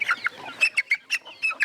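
Local Agon chicken breed clucking in a series of short, close, fairly loud calls with brief gaps between them, no voices present.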